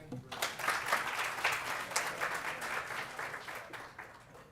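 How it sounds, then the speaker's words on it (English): A conference audience at a breakfast session applauds Dr. Chavis, a fairly faint but full burst of many hands clapping that starts suddenly, holds steady, then tapers off. "Let's give Dr. Chavis another round of applause"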